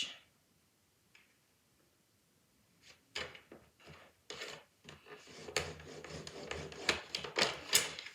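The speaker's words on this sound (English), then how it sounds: "we're going to add some score lines. We're going to add a 2 inch and a 4 inch." Several short scraping, rasping strokes as a bone folder or scoring tool is drawn across a 6 by 4.5 inch sheet of paper to score fold lines at 2 and 4 inches, close and fairly quiet, with no talking.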